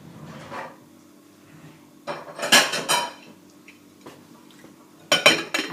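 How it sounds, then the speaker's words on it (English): A plate is set on top of a dish of chicken and soba noodles in a kitchen, making sharp ceramic clinks and clatters in two loud bursts with quieter handling sounds between. "I'll just put a plate on top."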